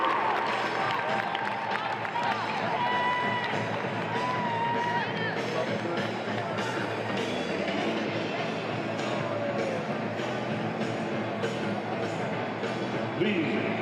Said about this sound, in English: Please give a big round of applause for the Western Michigan seniors, Carissa Ludwig and Tess Abbott.